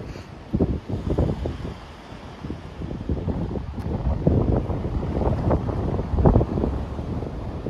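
Gusting wind buffets the microphone outdoors on a walk along a trail across a hospital campus, a steady low rumble swelling in repeated bursts with no talking.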